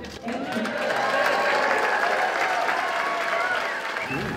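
A crowd at an election campaign event in Warringah claps and cheers loudly and continuously, a dense wash of applause with voices mixed in, swelling and then easing slightly.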